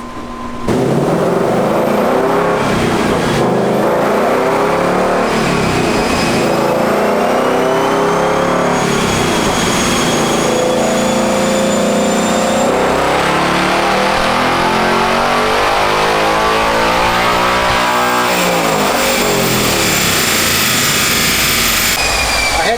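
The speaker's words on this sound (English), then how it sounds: "the guys got it strapped down to the dyno, and we're going to try our first pull" A Ford Mustang Dark Horse with a six-speed manual strapped to a chassis dyno roars through a fourth-gear pull, its engine note climbing steadily in pitch over a long, loud, sustained wide-open run before easing off at the end.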